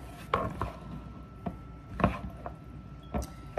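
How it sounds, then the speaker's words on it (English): Rotini vegetable pasta salad is stirred in a bowl, giving a few soft, irregular scraping and knocking sounds at close range with quiet gaps between them and no talk. "Quick stir."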